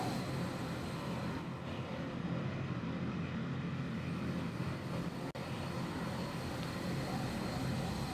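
A fixed-wing aircraft engine drones steadily at an airshow, AeroKosh 2024, as a plane comes in to land, a loud, continuous broadband roar with no talk and one brief dropout near the end.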